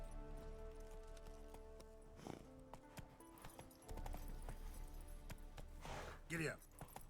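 Horse hooves clip-clop at a gallop while a rider travels in a fantasy video game, the rhythmic beats steady under background music, with voices speaking briefly near the end.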